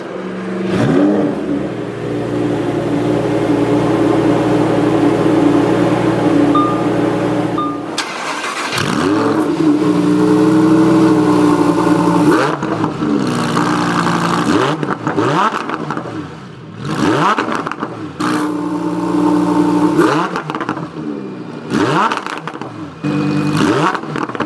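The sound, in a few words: Lamborghini Huracan Performante Spyder engine starting up and idling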